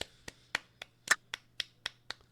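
Hands clap about nine times in a loose, uneven rhythm, sharp and close, with quiet background between the claps.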